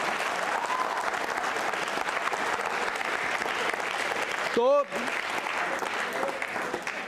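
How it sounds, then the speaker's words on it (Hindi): A school quiz show audience claps for itself in a loud, dense burst of applause that runs throughout, with a brief spoken word cutting through near the end. "तालियां बजाओ अपने लिए।"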